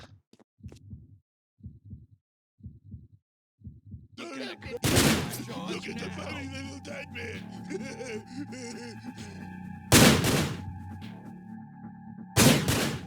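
A few soft thumps, then loud sharp gunshots in the video game Manhunt bursting over steady game ambience and background sound, with another shot or two following a few seconds apart.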